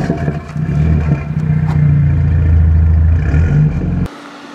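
Renault Megane RS engine revving and accelerating up close, a loud steady mid-range drone with rising harmonics that cuts off abruptly near the end.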